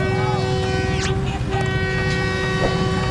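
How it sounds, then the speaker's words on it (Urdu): A diesel train horn from the Kohat Passenger at Rawalpindi sounds as a long sustained tone over a low engine rumble, with someone talking throughout. "آپ کو جو یہ ہارن کی ساؤنڈ سنائی دے رہی ہے یہ کوہاٹ پیسنجر ہے"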